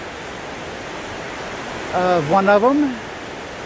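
Waterfalls pouring across the Snake River at Thousand Springs, Idaho, a constant broad rush of falling water that fills the scene, while someone briefly speaks over it.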